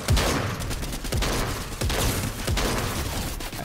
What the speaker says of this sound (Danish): Jeg bliver skudt bag mig også.